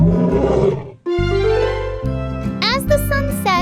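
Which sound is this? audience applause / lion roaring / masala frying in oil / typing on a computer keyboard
lion roaring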